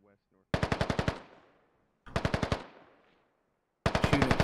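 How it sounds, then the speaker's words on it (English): Bursts of rapid automatic gunfire in a military video game, three loud close volleys of evenly spaced shots, the first two trailing off into echo, with brief silence between. "Shooting at Hero."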